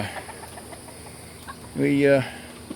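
A single throaty chicken cluck rises briefly out of a quiet outdoor garden background after a tropical storm, fairly close and moderately loud.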